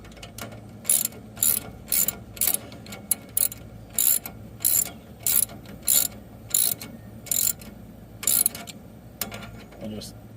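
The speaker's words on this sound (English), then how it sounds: "I'll just tighten this up." A hand ratchet tightening a bolt fitted with a nylon lock nut on a Ford backhoe, loud rhythmic ratcheting bursts repeated about every half second, close up.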